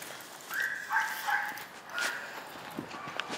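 A dog gives a few short barks, moderately near and not very loud, with light footstep-like sounds, during a dog training session with two dogs.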